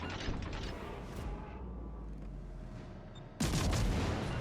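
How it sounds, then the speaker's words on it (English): Naval gunfire from a warship lobbing high-explosive shells in World of Warships Legends: dense rumbling battle noise with booming salvos, a sharp loud blast near the end, no talk. "So we'll lob HE shells towards him and see if we can't trigger some fires here."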